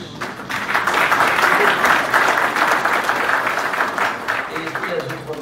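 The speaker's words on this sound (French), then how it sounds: "Et je vous demande aussi de bien vouloir applaudir" Sustained applause from an audience at a university ceremony, steady dense clapping filling the whole stretch, loud and close with some voices mixed in.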